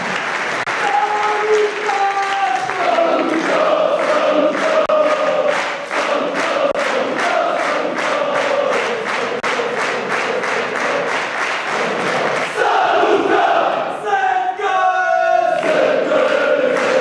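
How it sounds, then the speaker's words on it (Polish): Sustained applause with cheering from a crowd at a presentation of Stal Stalowa Wola football players, the 2003 youth squad and their coach, loud and continuous, with a fresh burst of clapping and shouts near the end. "Gorące brawa"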